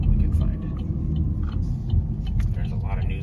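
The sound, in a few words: car driving through storm-damaged town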